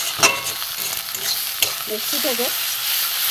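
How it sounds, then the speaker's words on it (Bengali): Ridge gourd peel paste frying in a wok while being stirred, giving a close, continuous sizzle with scraping strokes and a few sharp knocks of the spatula against the pan. "এবার ভালো করে আমি নাড়বো, সুন্দর করে কড়াই নাড়ব।"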